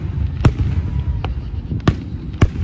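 Fireworks bursting at a 4th of July celebration in a park: three sharp, loud explosive bangs spaced unevenly across a few seconds over a steady murmur of outdoor crowd noise.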